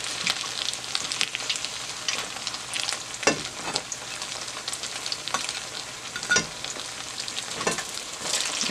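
Cornmeal fritters (sorullitos) with bubbling cheese fry in a non-stick pan, giving a steady, close sizzle with scattered sharp crackles and pops throughout.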